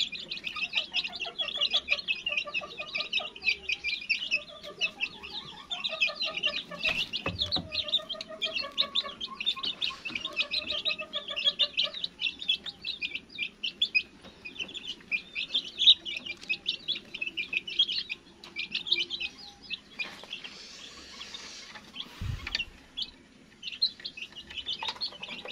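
Chicks of a Philippine chicken breed, a Sweater and Peruvian cross about 27 days old on a farm, chirp in rapid, high, continuous bursts, with occasional faint clucks and a few soft thumps.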